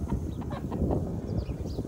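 Pet red hens clucking outside in the morning on a small backyard farm, a steady soft chatter of several birds close by, with no talking.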